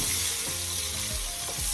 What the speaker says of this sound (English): now I'm going to go in with my onions in the same pot that I fried my chicken breast in